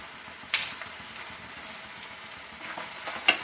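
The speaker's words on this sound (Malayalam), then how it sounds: "നമ്മൾ ചേർത്ത ഈ സ്പൈസസിൻ്റെ പച്ചക്കുത്ത് മാറുവോളം നമുക്ക് ഇളക്കി കൊടുക്കാം" Spices and curry leaves being stirred in hot oil in a pan for a pickle masala: a steady low sizzle with a few sharp spoon scrapes against the pan, heard close with no talking.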